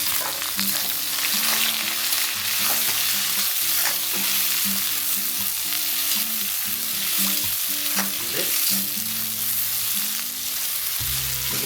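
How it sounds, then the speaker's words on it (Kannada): Chopped onion frying in a pan for chilli chicken gives a loud, dense, continuous sizzle with occasional stirring scrapes, steady throughout and close up, while a low tonal hum runs underneath. "ಈರುಳ್ಳಿನ ಕ್ಲೀನಾಗಿ ಫ್ರೈ ಆಗೋ ಮಟ್ಟ ಇದನ್ನು ನಾವು ಫ್ರೈ ಮಾಡ್ಕೊಳ್ಳೋಣ"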